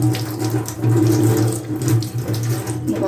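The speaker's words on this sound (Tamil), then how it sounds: "நம்ம குழா திறந்து நல்லா வாஷ் பண்ணிடலாம்." A running water tap gushes steadily into a sink while goat intestine is washed under it, a close, continuous splashing rush with no talk.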